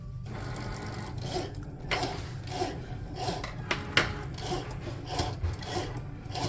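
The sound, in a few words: Cricut machine foiling a paper lantern design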